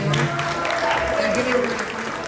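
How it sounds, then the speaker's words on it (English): An audience at a community meeting held in a school applauds the school's security guard, a steady wash of many hands clapping with voices mixed in throughout. "let me just hear a hand of applause for the security guard of the school"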